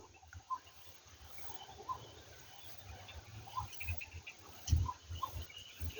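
Frogs and birds in a countryside rice field at a homestay: faint, sparse chirps and calls scattered over a quiet background, with occasional soft low thumps near the end.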